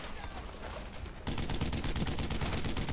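Rapid gunfire from a Brothers in Arms: Earned in Blood battle, a rattling burst that thickens halfway into dense, continuous automatic fire lasting to the end, loud and close with no talk.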